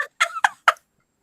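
Chickens near a new doggy door make a quick series of three or four short, sharp clucking calls close by, followed by silence.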